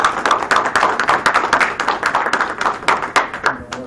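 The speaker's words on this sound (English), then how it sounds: "giving him a round of applause" An audience at a community talk breaks into a brisk round of applause, many hands clapping densely and continuously for about four seconds before it starts to thin out.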